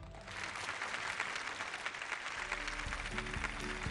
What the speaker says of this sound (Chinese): 让我们再一次用热烈的掌声感谢